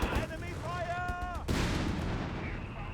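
A rattling burst of machine gun fire from a Company of Heroes 3 battle, with a blast and thudding gunfire under the game's ambient noise and a faint tonal sweep.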